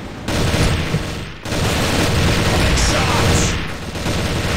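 Continuous automatic gunfire in the Crossfire video game, loud dense volleys of rapid shots broken by a brief gap, with game noise underneath.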